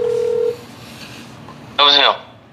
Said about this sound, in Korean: 이제는 원조 띠리띠리한테 전화한다는 거지